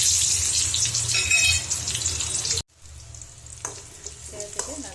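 Onions sizzling and frying in hot oil with mustard seeds and curry leaves, a steady loud crackle broken by a brief pause, then stirring clatter as the frying resumes; no voices.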